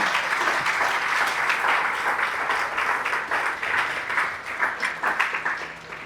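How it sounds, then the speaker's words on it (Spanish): A church congregation during a sermon claps together in a sustained, fairly close round of applause that rises and falls slightly in waves, with no one speaking. "Alguien le da un aplauso al Señor"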